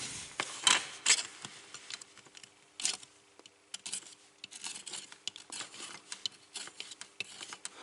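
A craft knife scrapes and trims a 3D printed railway guard's van kit part, making faint, irregular clicks, scratches and short rasping strokes close by, with no talk.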